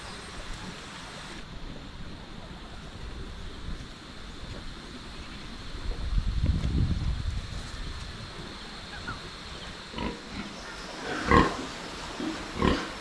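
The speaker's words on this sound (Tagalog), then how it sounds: "Yung mga baboy natin, oh." Farm pigs grunt and squeal in short, scattered bursts, one louder swell mid-way, against a windy outdoor background.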